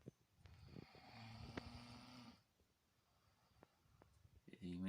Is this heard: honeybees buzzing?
no